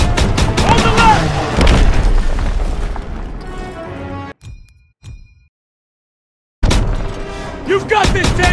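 Heavy gunfire and booming explosions on a Call of Duty: WWII campaign battlefield, loud and dense, cutting out abruptly to near silence before the barrage resumes; shouting voices mix in.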